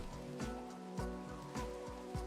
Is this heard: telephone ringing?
no